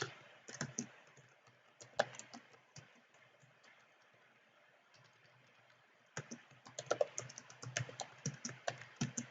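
A computer keyboard clicks steadily as text is typed, light taps arriving in irregular clusters with a quiet gap in the middle before a denser run of keystrokes, soft and close with no voices.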